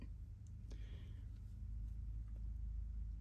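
A truck passing outside a room, heard as a low continuous rumble of engine noise that swells slightly toward the end, steady and moderately loud with no speech.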